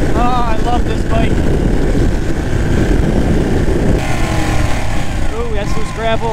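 Ducati motorcycle engine droning steadily while riding, loud and close with wind roar, a brief shift in tone partway through, and someone talking over it.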